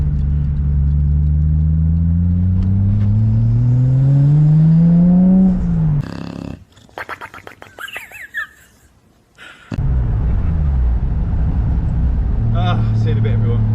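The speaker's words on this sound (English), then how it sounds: "We do have turbo noises, boost and tunes." A turbocharged Fiat engine revs up through rising gears with a rising whine, then drops to quieter whooshing and fluttering turbo sounds before the engine drone returns.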